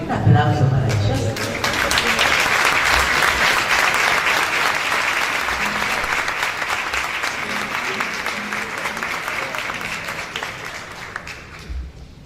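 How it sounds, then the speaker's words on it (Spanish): Sustained applause from a concert audience after a choir performance, dense and steady clapping for about twelve seconds before tapering off near the end, with a voice briefly audible at the start. "Un aplauso para ellos."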